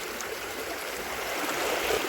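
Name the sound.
flowing water in a stream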